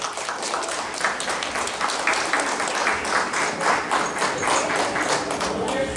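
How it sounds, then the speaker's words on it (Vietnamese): Audience applause at a Lunar New Year 2019 community performance, a dense steady clapping from a crowd lasting throughout, loud and close, with voices faintly mixed in. "Chúng tôi xin đề nghị là chúng ta cho một tràng pháo tay"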